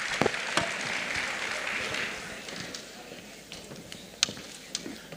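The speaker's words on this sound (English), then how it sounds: "So please, with a round of applause, let's welcome Dr. Otefe Edebi to speak to us this morning." Audience applause at a business conference, a dense wash of clapping that fades over a few seconds, with a few sharper claps near the end.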